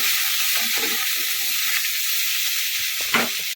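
Masala brinjal pieces frying in a pan give a steady, loud sizzle throughout, with faint stirring clinks and scrapes underneath and a brief louder scrape near the end.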